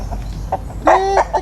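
Chicken clucking in short bursts, one longer rising call in the middle, close and moderately loud over a quiet rural backdrop with no talk.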